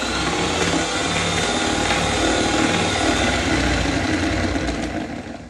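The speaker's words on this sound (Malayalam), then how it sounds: "ഇനി ഇതിലേക്ക് 1/2 ടേബിൾ സ്പൂൺ ഓയിൽ ചേർത്തിട്ട് ജസ്റ്റ് ഒന്ന് ബീറ്റ് ചെയ്യുക കേട്ടോ" Electric beater whipping eggs, sugar and oil into cake batter, a steady close whirring motor hum that runs evenly and eases slightly at the end, with no talking.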